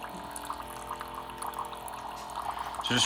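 A Bartesian Duet cocktail machine flushes water through on its first use, a steady close trickle and gurgle that swells toward the end.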